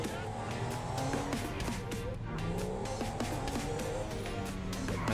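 An upgraded car in GTA 5 races along at speed, its engine a steady, loud roar with rising and falling tonal sweeps as it accelerates and shifts, running continuously throughout.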